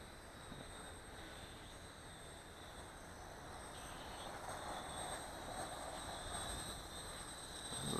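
A Sky Viper X-Quad quadcopter drone flies steadily, its rotors giving a continuous buzzing whine with high tonal bands, swelling slightly louder toward the end as it speeds up.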